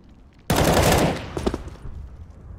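Automatic gunfire from the video game Counter-Strike, played on the Cobblestone map: one loud, close burst of rapid shots cracks out abruptly, then trails off into a few scattered, fainter pops and echoes.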